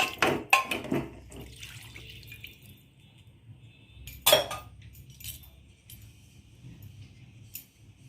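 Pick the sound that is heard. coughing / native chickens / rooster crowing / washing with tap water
washing with tap water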